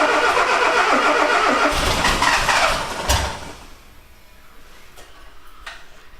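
A 1985 Mazda 929 engine cranks hard and loud for about three seconds, then the noise drops off sharply to a quieter idle or run-down, with scattered clicks and ticks afterward.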